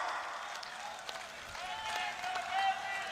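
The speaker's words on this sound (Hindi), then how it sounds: "सारे लोग एक बार हाथ उठाकर तालियां बजा दीजिए" A crowd at a BJP rally in Bathinda claps in a steady, dense wash of applause at moderate distance, with a thin tone rising briefly over it and a voice heard in places.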